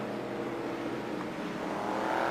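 Stock cars racing around a track at a 1989 Hawke's Bay championship night: a continuous roaring engine drone, far to mid distance, rising slightly as cars come through.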